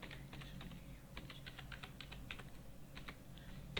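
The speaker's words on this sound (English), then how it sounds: "So type the party PAN number," Fingers tap out a PAN number on a computer keyboard, a run of quick, light, irregular keystrokes close to the microphone in an otherwise quiet room.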